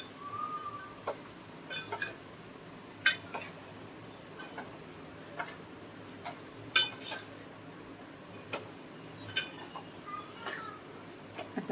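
A spoon stirring bhogi vegetable dish in a pot, giving sparse, quiet clinks and scrapes of metal at irregular intervals over a soft, low background.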